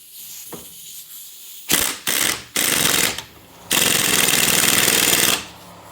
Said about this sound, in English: I'm just going to use my impact and tighten it down.